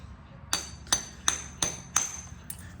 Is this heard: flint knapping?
yes